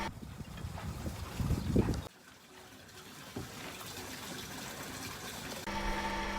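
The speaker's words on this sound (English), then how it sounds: "the water pump for the air condition needs to start after a few seconds" Air conditioning water pump aboard a Beneteau Oceanis 48 sailing yacht starting up, a watery churning and trickling that drops briefly, then settles into a steady mechanical hum with a tonal whine appearing toward the end.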